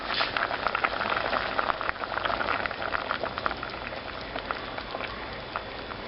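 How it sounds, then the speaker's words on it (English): Black beans at a full rolling boil in a pot, a steady dense bubbling and popping that stays close and fairly loud throughout, easing slightly toward the end, with no talking. "Okay, the beans are at a full rolling boil."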